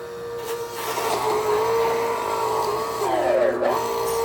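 A PURE juicer pressing large carrots, its motor droning loud and close in a steady whine that strains and bends in pitch as the press works, with no talking.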